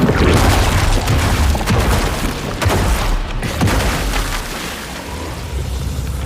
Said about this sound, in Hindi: वहां एक जोरदार धमाका हुआ और सारे के सारे परस्तर सर्पों के जिस्म गुब्बारे की तरफ फट गए